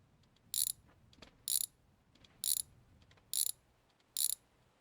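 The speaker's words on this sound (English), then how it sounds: "we're going to bolt this last wheel down" A ratchet tightens the wheel nuts on a car in a garage, heard as five evenly spaced, loud bursts of rapid metallic clicking with quiet gaps between them and no talking.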